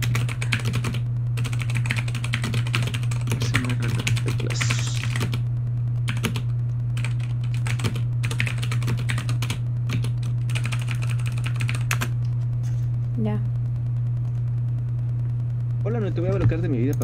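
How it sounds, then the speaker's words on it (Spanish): Typing on a computer keyboard during a live gaming stream, a fast run of clicking keystrokes under a steady electrical hum, with people talking over it at times. "ponte a teclear. Teclado ese."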